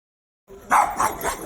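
A dog barks loudly and close, giving two or three sharp bursts in quick succession after a brief silence, during a tense confrontation with its owner inside a Walmart store.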